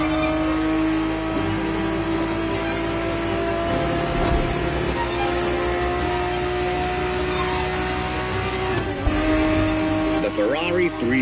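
A Ferrari 365 GTB4 in The Crew racing game holds a steady, loud engine drone with brief revs and a tire-squeal flourish near the end, running continuously beneath a commentator's voice.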